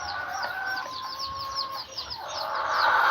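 Farm chickens clucking in a flock, repeated close clucks and a drawn-out call, with a rising background bustle toward the end and no talk.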